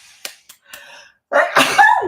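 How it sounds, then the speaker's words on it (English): A few soft scratchy taps of paper being scratched off fabric, then a sudden loud, forceful sneeze bursts out close to the microphone. "Oh, I have to sneeze."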